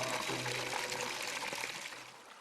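Snowmelt water from the Himalayas in Bhutan cascades in a steady, continuous rush, a dense broadband wash that holds even and fairly close for the whole stretch with no voices over it.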